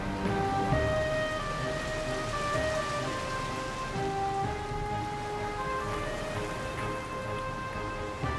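Steady heavy rainfall pours down in a cartoon flood that covers the whole earth, a dense continuous hiss of drops under sustained tonal background music, with no talking.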